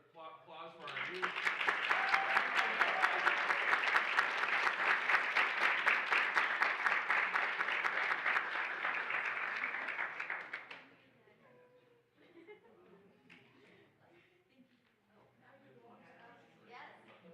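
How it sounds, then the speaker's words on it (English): Sustained applause from a school board meeting audience honoring the youth, a dense steady roar of many hands lasting about ten seconds before cutting off into quieter room sounds and a few voices. "Please, another applause for our youth."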